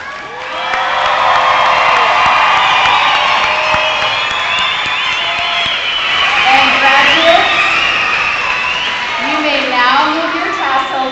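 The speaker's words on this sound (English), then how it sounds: "One more round of applause." Graduation ceremony audience for a summer alternative-program class breaking into sustained applause and cheering, with whoops and shouts rising over steady clapping throughout, loud and crowd-filled.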